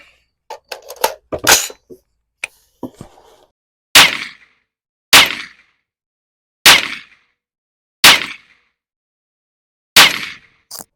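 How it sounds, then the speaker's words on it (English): An AR-15 rifle shooting Hornady Black ammunition lets off five loud, sharp single shots about a second apart, each one cracking and then decaying, after some earlier clatter and handling knocks. "We'll go to the higher quality ammo with this Hornady Black and see how it shoots."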